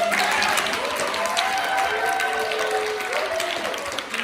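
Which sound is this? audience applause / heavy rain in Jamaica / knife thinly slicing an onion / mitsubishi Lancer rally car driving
audience applause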